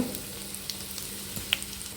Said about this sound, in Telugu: పోపు వేగిపోయింది చూసారా